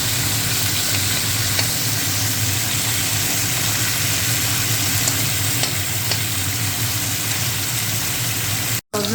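Sajne drumsticks frying in a karai with salt and turmeric, a dense, steady sizzle with a faint low hum beneath, continuous and close, with a brief cut near the end.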